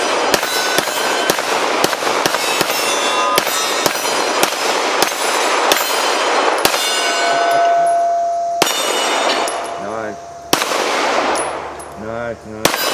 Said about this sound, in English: Let's try the old 525 XDM. See if it's duty worthy. All right. Let's just go ahead and pop that gun.